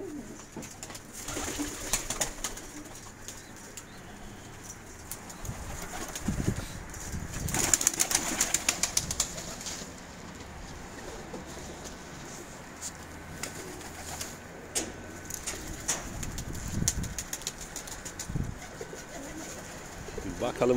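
Mardin pigeons coo and flap their wings inside a coop. The soft, continuous cooing carries on with bursts of wingbeats and rustling, and someone talks faintly in the background.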